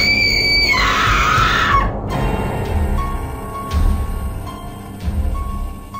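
A girl screams hysterically as a horror-story sound effect, a loud high piercing shriek lasting under two seconds, followed by a low eerie rumbling ambience.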